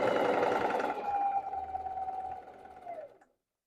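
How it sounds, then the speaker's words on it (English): Sewing machine stitching a seam on a denim skirt made from upcycled jeans, a steady whirring run that slows and winds down to a stop after about three seconds. "Put the presser foot back down, and we're going to stitch all the way up."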